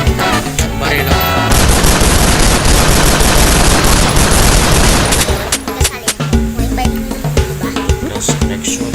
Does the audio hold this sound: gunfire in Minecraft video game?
yes